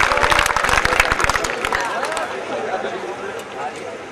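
Audience applause at a mushaira, an Urdu poetry gathering, as a woman poet comes to the stage: dense, loud clapping that thins out after about a second and a half into a softer crowd wash.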